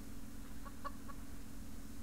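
Chickens clucking in the farming survival game Subsistence, three short soft clucks in quick succession near the middle, set over a steady low background hum.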